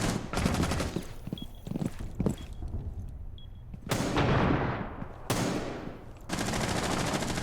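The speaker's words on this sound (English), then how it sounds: "Now suddenly he's tap firing as a pre-fire." Rapid tap-fired gunshots in a first-person shooter game, loud, close bursts in separated volleys with short pauses between them, no talking.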